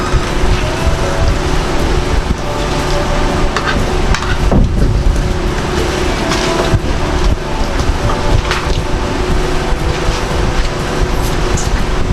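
Food frying in hot oil at a rural home, a loud, dense, continuous sizzle and crackle that stays steady throughout, with no talking over it.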